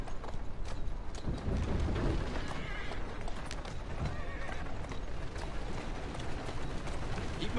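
A mare's hooves clop along at a steady walking rhythm in Assassin's Creed Syndicate, mixed with game ambience, a snort or whinny and some low background noise.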